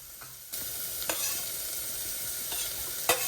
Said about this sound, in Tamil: வெங்காயம் கொஞ்சம் வதங்கினதுக்கு அப்புறம் உள்ளியை போட்டு வதக்கி கொள்ள வேணும்.